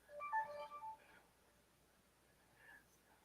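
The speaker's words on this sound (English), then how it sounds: "Why the hell is my phone blowing up right now?" Several short electronic phone notification chimes from incoming Discord messages ring out in a quick cluster near the start, then one more alert follows after a pause; the chimes are fairly faint and heard without talk.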